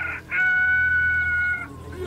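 A rooster crows once, loud and close, a long drawn-out call over low background noise.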